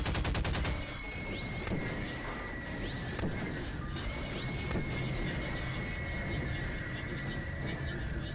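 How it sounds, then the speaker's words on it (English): Gunfire in the sandbox video game Garry's Mod, with a rapid burst of shots at the start followed by noisy game ambience and a few sweeping, whining effects. Some faint speech may be mixed in. "Бармалей, come here, we're going to shoot you now"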